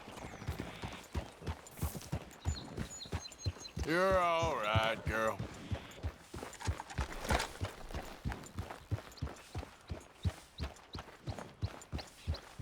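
Horse hooves clip-clopping in a steady walking rhythm, close and clear, with a voice speaking gently to the horse partway through.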